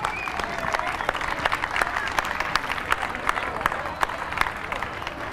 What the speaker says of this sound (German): Grossen Applaus!